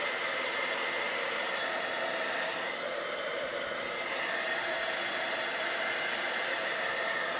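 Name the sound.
embossing heat tool drying paper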